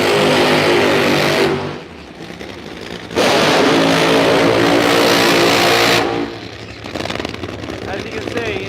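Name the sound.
Top Fuel dragster engine revving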